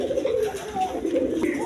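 A pair of high-flying Giribaz pigeons at a farm gives a short, close, soft throaty coo that rises and falls over under two seconds.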